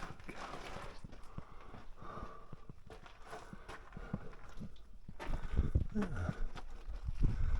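Hooves of a cart horse pulling a cart clip-clop at a steady walking pace amid crowd chatter and background noise, growing louder and closer toward the end.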